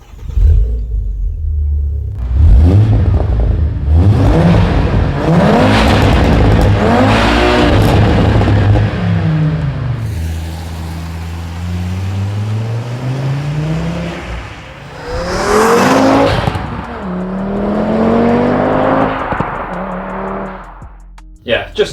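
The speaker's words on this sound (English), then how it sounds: "And some drive-bys of the new exhaust setup I got on it." Audi TT RS 8J with a new exhaust setup makes drive-by passes, its engine revving hard and swelling loud as it approaches, then dropping away, with a second pass roaring through later.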